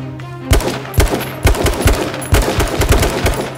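Loud, close automatic gunfire in the video game H1Z1 arrives as several rapid bursts of sharp shots with short gaps between them.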